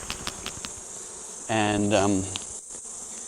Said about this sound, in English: So I'm just going to pull out one frame and I'll shake those bees off here.